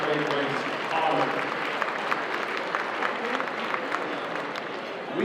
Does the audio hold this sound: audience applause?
yes